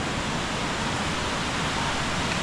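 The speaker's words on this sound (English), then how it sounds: "This is one of the largest or tallest waterfalls in Arkansas." A roaring 95-foot waterfall at Petit Jean State Park, Arkansas, heard up close as a steady, loud broadband rush of falling water with no pauses.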